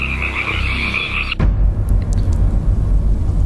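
Frogs croak in a nearby spring swamp, a dense chorus with a high trilling call that cuts off abruptly, leaving a lower, rougher croaking mix that continues steadily.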